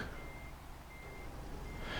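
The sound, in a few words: truck reversing beeps in Euro Truck Simulator 2 video game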